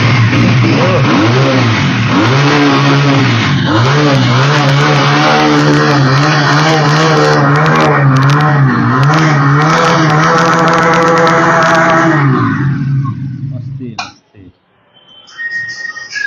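A motorcycle engine revs hard and loud close by, climbing and falling repeatedly with a strong rising whine for about twelve seconds before cutting off abruptly, followed by faint handling noises.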